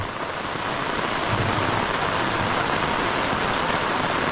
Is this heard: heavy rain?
yes